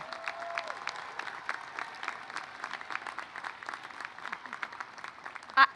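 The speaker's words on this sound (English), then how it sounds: "High five your neighbor, give yourself a big cheer, and take it all in." Graduates at a university commencement ceremony clapping and cheering, a steady, moderately distant crowd applause with scattered sharp claps throughout, ending in one louder burst nearby.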